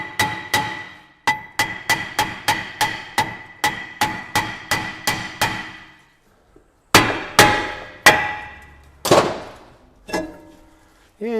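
Sharp metallic hammer blows strike a rusted brake disc to free it from the hub in a steady, even rhythm, about a dozen hits, then a pause followed by a few heavier, slower strikes ringing out.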